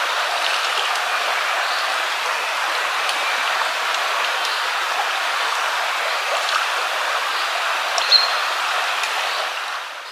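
A river stream flows steadily beside a forest campsite in the Morvan, a continuous near rushing wash of water filling the whole stretch with no other sounds.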